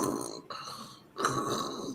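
A man imitates snoring with his voice, producing two drawn-out, rattling snore sounds with a short break between them, loud and close.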